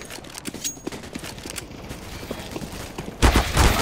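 Counter-Strike: Global Offensive gameplay carries rapid, crackling bursts of in-game gunfire. A louder, denser spray comes in near the end.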